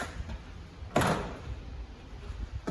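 The entry door of a 2024 Chaparral 254RLS RV opens with a single sharp clunk and rattle, followed by quiet background rustling.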